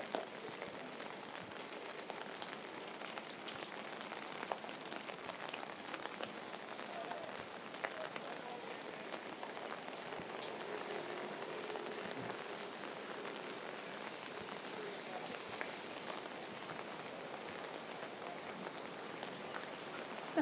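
Steady rain falling on empty downtown Singapore streets and alleyways with puddles, a constant even hiss of drops on wet surfaces heard alone, moderately quiet.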